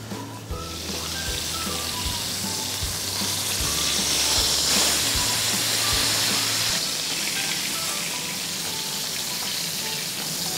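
Cèpe mushrooms sizzle and fry steadily in olive oil in a pan, a dense continuous crackle that swells slightly midway, with a low intermittent hum underneath and no talking.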